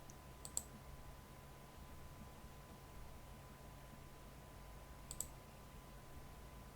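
A computer mouse clicks twice, quiet and several seconds apart, during disk partitioning in GParted, against a faint steady background hum.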